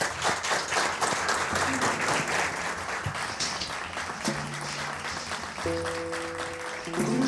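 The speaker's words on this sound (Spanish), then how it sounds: "Pues lleváis este calurosísimo aplauso" Warm studio audience applause for guests on a live history radio show in Gijón, a dense steady wash of clapping filling the whole stretch, with faint tonal music rising beneath it toward the end.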